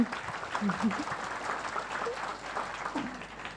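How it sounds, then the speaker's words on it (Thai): An audience claps at a business seminar, a fairly soft, steady patter of hands with faint voices scattered through it. "ถ้าเชื่อปรบมือดัง ๆ"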